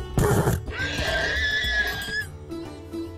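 A horse in the video game Minecraft neighs once, a loud drawn-out whinny after a short burst of noise, trailing off into quieter game sounds.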